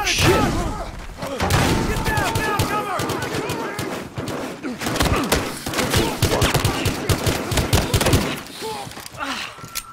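Rapid bursts of automatic and single-shot gunfire in the video game Battlefield Hardline, dense and loud for most of the stretch with heavy thuds, easing near the end, while players shout and talk over it.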